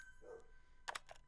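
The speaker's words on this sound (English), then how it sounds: "Dog's barking." A real dog barks faintly in the background, a single short bark followed by a couple of quick yips, distant and quiet behind game audio.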